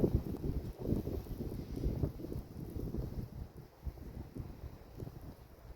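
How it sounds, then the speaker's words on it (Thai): Wind gusts steadily across a microphone outdoors in cold, snowy weather, a broad low roar that swells and buffets continuously without pause. "เสียงลม เสียงลมนะจ๊ะ"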